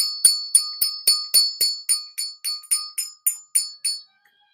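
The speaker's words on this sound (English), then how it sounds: "That's ringing that money bell." A small bell rings about fourteen times in a quick, even series of bright, clear strikes, each decaying briefly. The strikes fade gradually and stop into silence, with no talk.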